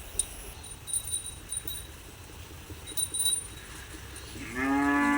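A cow on a farm gives a single loud, close, drawn-out moo near the end, after a stretch of quiet yard noise with faint metallic clinks like a cowbell.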